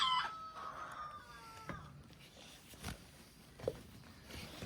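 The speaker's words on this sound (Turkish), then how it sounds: "Oğlum bu horoz horoz." A rooster, newly bought along with some hens, gives a thin crow early on, followed by a few scattered clucks and light footstep-like taps at moderate distance.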